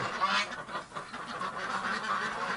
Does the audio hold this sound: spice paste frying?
no